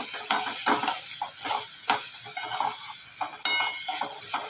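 A dry cluster bean stir-fry sizzles steadily in a pan while being stirred and roasted, with repeated spatula scrapes and clicks against the metal. No voices.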